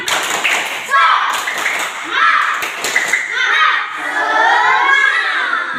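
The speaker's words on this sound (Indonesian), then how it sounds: "Sebelum belajar, kita tepuk semangat terlebih dahulu biar tetap semangat belajarnya." Children in a classroom clap and chant a rhythmic group cheer, loud and close, with shouting voices and claps mixed together, followed by a teacher's voice speaking.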